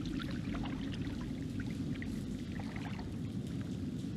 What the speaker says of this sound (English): Let's walk through the water.